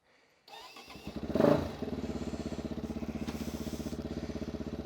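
A Megelli 250R motorcycle fitted with a cone filter starts up, gives one quick rev, then settles into a steady, evenly pulsing single-cylinder idle close by.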